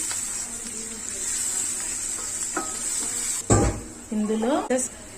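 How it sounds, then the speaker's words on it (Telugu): Curry leaves dropped into hot oil with frying spices, turmeric and coriander powder for an okra pulusu, giving a sudden loud crackling burst followed by spoon scraping and stirring over a steady sizzle, with a voice speaking throughout. "కరివేపాకు వేసుకోవాలి. ఒకసారి బాగా కలిపేసుకోవాలి."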